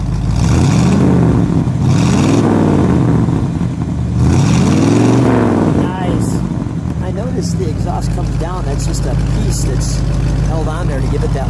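A 1955 Dodge Royal Lancer's engine revs up and falls back three times in strong, rising swells, then settles into a steady, throaty idle while voices talk nearby.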